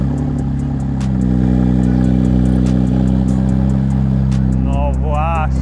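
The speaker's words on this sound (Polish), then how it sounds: "Zimny start silnika?" Car engine on a cold start, settling into a steady close rumble with faint clicks, and a voice speaks near the end.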